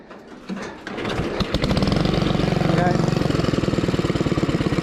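Engine on a homemade tractor motorcycle cranks and catches, then settles into a loud, fast, even chugging idle close by.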